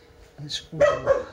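A dog barks indoors, two sharp close barks in quick succession after a person briefly starts to speak.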